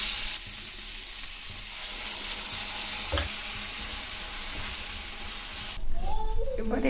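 Broad beans frying in a pan as mustard paste goes in, a steady sizzle and hiss with a few stirring knocks, then louder spluttering near the end.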